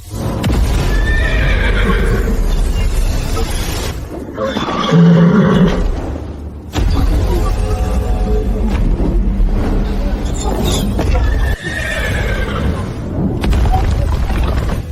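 Armored horses gallop and neigh in an anime battle sound effect, loud layered hoofbeats and rumbling with repeated whinnies rising over the din.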